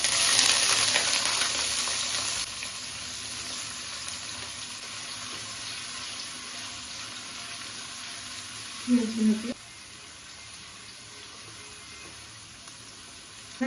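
Onion and green chilies frying with whole cumin in white cooking oil in a pan, a loud hiss that settles into a softer sizzle, with a brief stirring clatter near the end.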